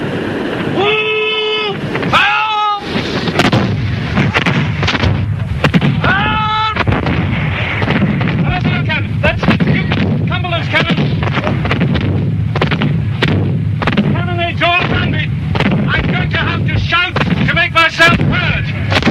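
Repeated booming cannon shots ring out amid loud battlefield din at the Battle of Culloden, with shouted voices and wind noise throughout.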